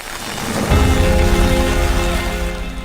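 Torrential rain pours down on an outdoor political rally in Bikaner, India. The dense hiss swells sharply after a quiet start into a loud, continuous downpour.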